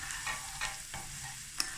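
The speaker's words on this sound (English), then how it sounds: "And then that starts frying with." Vienna sausages fry in a pan with a steady close sizzle, broken by a few soft stirring scrapes and a small sharp tick near the end, no voices.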